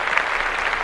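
Steady applause from a small group fills the moment, a dense continuous patter of hand claps at even loudness with no voices over it.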